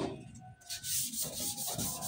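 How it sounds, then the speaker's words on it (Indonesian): A car headlight lens is wet sanded by hand with sandpaper, making steady close rubbing strokes in a quick back-and-forth rhythm. "Kita amplas teman-teman."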